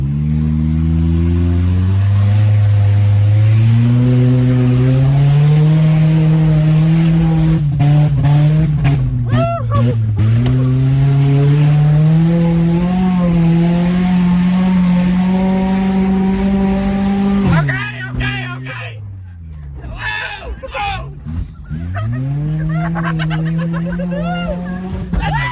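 A cheap, secondhand race car drives and revs hard, its engine note climbing and falling through gear changes with a brief, rough throttle lift partway through. Voices talk over the loud, close engine.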